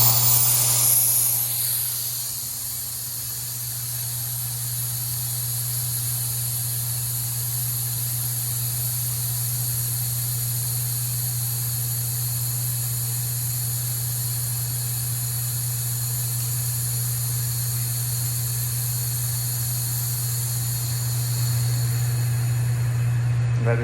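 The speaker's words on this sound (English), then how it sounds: "That's the airbags completely deflated" The airbags of a truck's air suspension let their air out in a long, continuous, fairly loud hiss that holds steady, layered over a low steady hum.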